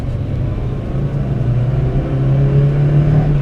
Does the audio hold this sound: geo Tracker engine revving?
yes